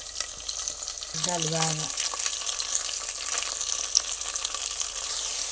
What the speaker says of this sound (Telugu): ఉల్లిపాయ పచ్చిమిర్చి కరివేపాకు వేసి కొంచెం దోరగా వేపాలి.